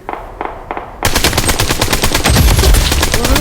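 Rapid automatic gunfire from the mobile shooter Blood Strike erupts after a few quieter shots, then rattles on loudly and continuously with heavy low thumps near the end.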